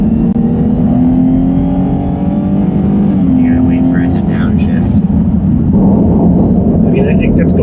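2015 Dodge Grand Caravan with the naturally aspirated Pentastar engine accelerating, a loud steady drone rising in pitch as it gains speed, with a brief shift partway through and road noise underneath.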